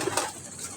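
Pet pigeons give a brief, soft coo, faint against a breezy outdoor background, with no talking.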